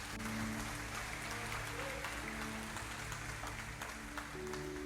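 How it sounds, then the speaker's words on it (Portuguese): A church congregation applauds after a sermon about Jesus and Zacchaeus, a steady wash of clapping at moderate level, with a sustained organ or keyboard tone underneath throughout. "Aplauda"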